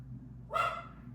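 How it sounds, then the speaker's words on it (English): A dog gives one short, sharp bark indoors at moderate distance, standing alone against a quiet room hum. "sorry about my dog."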